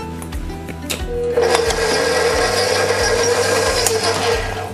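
An electric mixer whirs into egg yolks and sugar for tiramisu. It starts with a few short bursts, then settles into a loud, steady motor drone with a high whine.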